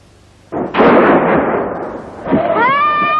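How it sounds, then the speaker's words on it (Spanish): Rifle shots marking the start of a men's march up a mountain: a loud sharp blast with a ringing tail, then a second crack followed by a rising whistle-like tone. "Unos disparos de rifle marcan el inicio de la marcha de los hombres de Shimban hasta la cima de la montaña."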